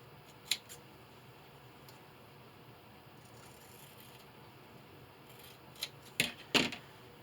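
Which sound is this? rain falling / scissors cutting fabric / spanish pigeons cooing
scissors cutting fabric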